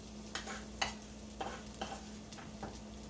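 Ginger garlic paste frying in hot oil for masala kidney beans, with a sizzle that flares in several quick bursts as it gets stirred, close and alone.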